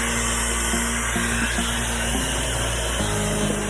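A hair dryer blows with a continuous whirring hum while styling curly hair, its motor tone shifting slightly a few times, close and fairly loud.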